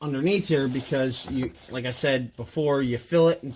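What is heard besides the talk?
None of the usual background noises is heard.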